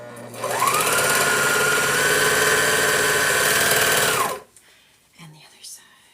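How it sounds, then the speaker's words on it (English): A sewing machine stitches the short ends of fabric pieces together for a Halloween bag, a loud, close, steady mechanical whir for about four seconds that stops abruptly, followed by faint handling noises. "So we're gonna attach the smaller ends, the shorter ends together. We're gonna sew them together."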